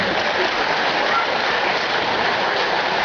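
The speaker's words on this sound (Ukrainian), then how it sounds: "Така погода, дощ" Rain falls at an outdoor political rally, a steady, even hiss of drops that holds at the same level throughout the whole stretch with no voices.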